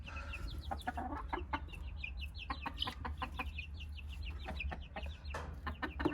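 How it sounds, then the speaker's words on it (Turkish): Chickens cluck in short repeated bursts, several birds overlapping at close range over a steady low hum, with no talking. "Civcivler sevdi de tavuk hala korkuyor."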